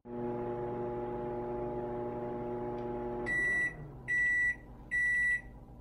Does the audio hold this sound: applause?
no